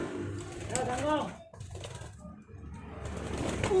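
Pet pigeons kept at home coo and flutter their wings nearby while someone talks over them almost throughout, the bird sounds partly buried under his voice.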